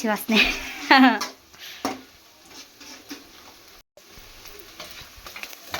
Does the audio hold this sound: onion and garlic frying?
yes